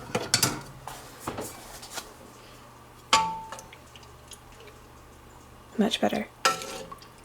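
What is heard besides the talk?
mashing cooked apples with a spoon for apple cider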